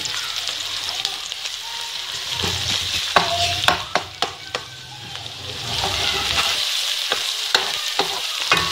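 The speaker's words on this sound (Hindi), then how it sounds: "देखिए हम प्याज फ्राई करेंगे, हल्का सा ब्राउन होगा" Onions and garlic sizzle and fry in a pan for a mixed vegetable dish, a continuous close hiss broken by a few sharp stirring clacks and scrapes of a spoon against the pan.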